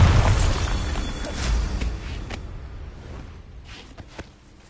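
Explosive spell blasts in Hogwarts Legacy: a loud booming burst with a deep rumble that fades over a few seconds, followed by a few sharp cracks and pops, no voices.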